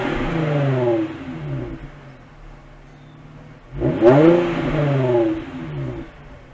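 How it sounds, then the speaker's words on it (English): An Infiniti FX35 engine with the exhaust resonator deleted revs twice, close by. Each rev rises and then fades, with a quiet idle gap between the two. "we'll do a couple revs, and then we'll test it out and see the difference in sound from with a resonator"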